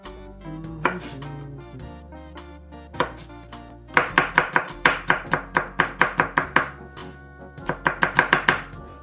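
A knife crushes and chops garlic on a board, a few scattered cuts and then quick rhythmic bursts of sharp, close chopping, with a brief pause between runs.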